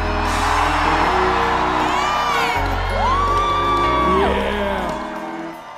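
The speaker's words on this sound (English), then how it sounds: "That's the kind of shout we're looking for." Outdoor Christian music festival crowd whooping, shouting and cheering loudly, a sustained roar of many voices with rising yells, under a stage speaker's voice.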